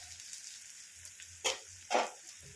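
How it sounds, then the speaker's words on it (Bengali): Food frying in a pan for curry pakoda, a steady close sizzle with two louder surges of hissing crackle as it is stirred. "এটা একটু ভালো করে ভাজা হয়ে যাক"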